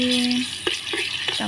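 Garlic added to a hot multi-function pot for scrambled eggs with sambal, giving a soft sizzle with a few short stirring scrapes and a brief tonal hum at the start.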